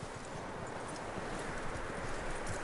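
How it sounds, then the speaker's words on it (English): Horse in the Red Dead Redemption 2 video game, heard as a steady, soft clip-clop of hooves over a continuous rustling, noisy background, fairly faint and without speech. "That looks like a decent horse."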